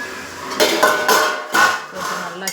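Okra for a South Indian vendakkai poriyal being stirred in a pan: several loud scraping, clattering strokes of a spatula against metal in bursts, with short quieter gaps between them.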